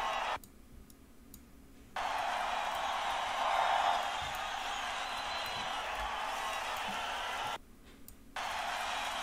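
A crowd noise sample in a music production mix gives a broad, steady roar of cheering and murmur that drops out sharply twice. Faint ticking runs underneath.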